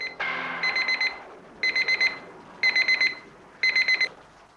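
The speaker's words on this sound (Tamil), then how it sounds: "3 மணிக்கு அலாரம் அடிக்குதே" An alarm clock rings in four bursts of rapid beeping, loud and close, with short pauses between each burst.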